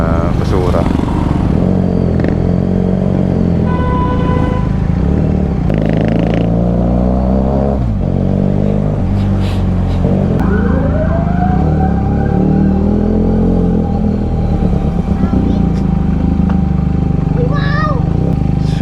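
Busy Manila street traffic with motorcycles and cars passing close, a constant loud engine roar with horns and siren-like wails rising through it, and people talking over the din.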